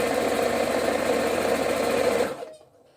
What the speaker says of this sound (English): I'm going to keep sewing around.